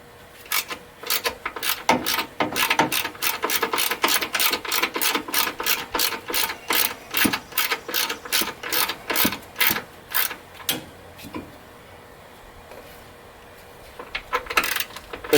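A hand ratchet works a 10 mm bolt loose on a 1999 Ford Expedition front brake, giving long runs of rapid, crisp clicking bursts up close, pausing briefly before a few final clicks.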